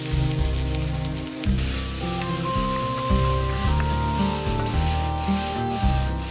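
Boiled green peas tipped into hot tempering oil with cumin, curry leaves and chilli powder, giving a steady close sizzle and frying hiss with scraping, rubbing stirs throughout, no voices.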